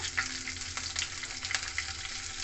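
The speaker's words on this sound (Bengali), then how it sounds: "ওই তেলে দিয়ে দেবো 5 ফোড়ন। দেবো এখানে কাঁচা লঙ্কা চেরা, একটা তেজপাতা" Panch phoron spices, a slit green chilli and a bay leaf sizzle steadily in hot oil, a dense continuous crackle with small pops, close and alone.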